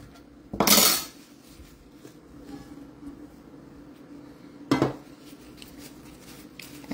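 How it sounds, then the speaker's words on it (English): A metal baking pan for a family dessert is handled, giving two sharp clattering knocks about four seconds apart over a quiet room hum. "So this is the baking pan I'm using."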